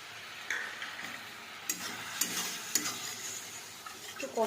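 Cashew paste sautéing in a pan with cumin powder and chilli powder, a soft muted sizzle with scattered ticks and scrapes of stirring, fairly quiet and without voices.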